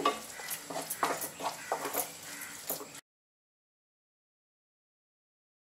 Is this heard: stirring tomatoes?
yes